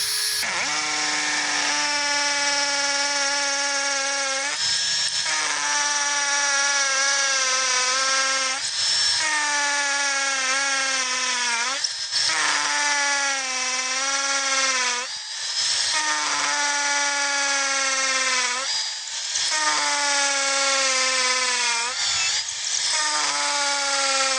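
A Tanzu 16.8V cordless impact drill bores into solid stone, giving a loud, continuous high whine that rises and dips in pitch with brief pauses, close up and alone.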